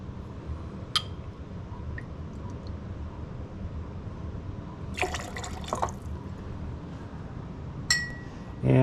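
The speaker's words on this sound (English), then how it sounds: "And 1 lemon juice, fresh lemon juice." Fresh lemon juice is poured for a Honeymoon cocktail: a short liquid trickle and drip with clinks of glass and a jigger, close and moderately loud, with a few brief gaps between sounds.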